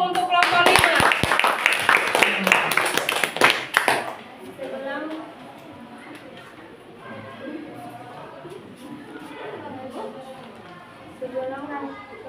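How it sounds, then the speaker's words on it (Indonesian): A classroom group claps for group 5 in a short burst of applause lasting about four seconds, then stops as a voice keeps talking over the quieter room. "kasih aplaus dulu untuk kelompok 5."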